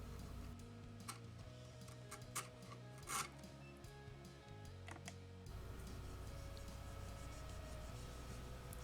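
Old polyester finish is chipped and scraped off a Les Paul guitar body, giving dry rubbing and rasping strokes with sharp ticks and a few louder scrapes, close and steady, no talking.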